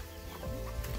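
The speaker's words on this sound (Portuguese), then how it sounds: "Aqui tem umas galinhas também. Galinha caipira." Free-range chickens on a small rural farm in Mandaguari give short clucks over a steady background murmur, close by and moderately loud.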